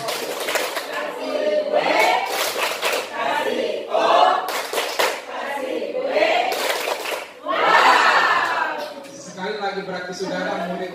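Bursts of hand clapping from participants at a teachers' workshop in Kutai Kartanegara ring out in short sharp clusters, mixed in with lively talking and exclamations throughout.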